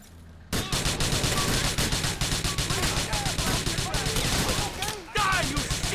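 A Grand Theft Auto IV shootout in which gunfire crackles in dense rapid bursts almost nonstop, with a short pause near the end. Game voices talk over the shooting.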